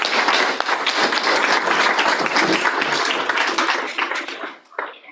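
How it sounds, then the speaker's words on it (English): Sustained audience applause at a community event, a dense wash of clapping that stays loud for several seconds before thinning out near the end. "Please give another round of applause."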